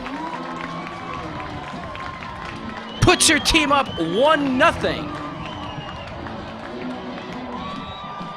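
A crowd cheers and shouts after a goal at a girls' CIF high school soccer final between La Costa Canyon and Granite Hills. The roar swells for about two seconds mid-clip, then fades, with a commentator talking throughout.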